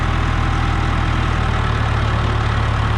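A loader tractor's diesel engine idling close by, a loud, steady low throb with an even rhythmic chug throughout, no voices.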